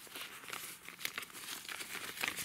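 Red plastic seedling bags of 0.5 litre size crinkling and rustling as they are handled up close, irregular crackles throughout with no voices.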